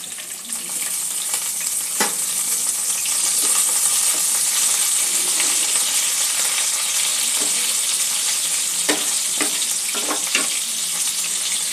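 Chopped onion hitting hot oil in a pan for a katla fish curry, giving a steady, loud, close sizzle with brief spattering pops throughout and no talking.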